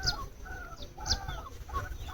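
Chickens clucking in a rural village yard at dusk, several soft, repeated clucks and calls from nearby birds over a steady low background hum, with no talking.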